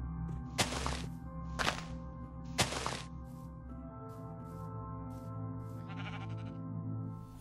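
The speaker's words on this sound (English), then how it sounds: "I hear my sheep." Three loud, broad bleats of Minecraft sheep spaced about a second apart over a steady droning background, followed by softer scattered sounds.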